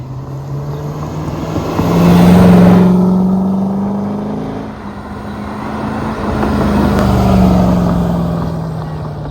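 A 5-ton truck strains to pull a shipping container, its engine droning loud and steady with two swelling pushes of revving effort, close by and without voices.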